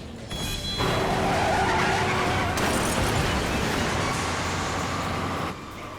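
A car brakes hard with a long, loud tire screech and skid, engine noise underneath, lasting several seconds before cutting off.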